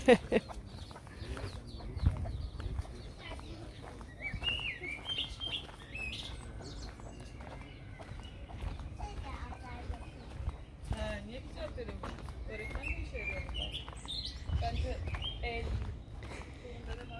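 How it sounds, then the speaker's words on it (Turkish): Chicks, roosters and hens cluck and chirp in a busy coop at a campsite in Çıralı, Antalya, with small peeps and calls scattered over steady rustling and low background noise; a person talks intermittently. "Minik minik civcivler var, horozlar var, tavuklar var."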